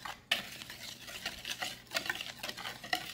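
Spoon stirring baking powder, sugar and a pinch of salt into buñuelo batter in a bowl, a quick series of soft scraping strokes and light clicks against the bowl, close and fairly quiet, with no talking.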